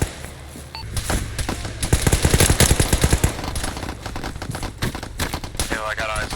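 Gunfire in the Arma 3 video game: rapid automatic bursts crackle in dense, rattling volleys, loud and near, then thin out into scattered shots, with radio-style voices talking over the fighting.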